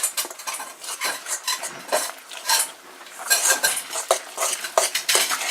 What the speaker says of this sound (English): Once again, thoroughly mix.